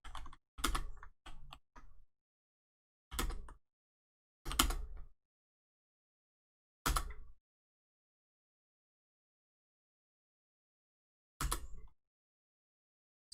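Bursts of typing on a computer keyboard come in short clusters of keystrokes separated by long silent pauses, close and fairly quiet, with no one talking.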